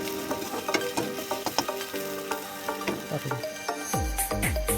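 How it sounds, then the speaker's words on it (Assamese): Onions, ginger and garlic fry in a wok over a low flame with a soft sizzle, punctuated by scraping and clinking of a spatula, and a stronger burst of clatter near the end. "এতিয়া আৰু আপোনালোকে জুইটো ল' ফ্লেমত ৰাখি পেলাই ভাজি থাকিব।"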